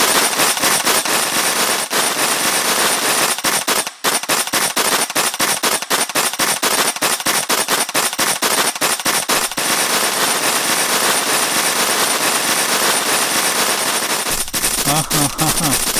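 A pellet gun fires in an animated Filipino cartoon battle: loud rapid-fire cracks in dense, uneven bursts fill most of the stretch, with brief pauses between volleys.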